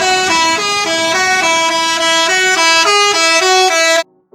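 A loud bus horn honks a steady, stepping sequence of tones for about four seconds, close and clear, then cuts off abruptly.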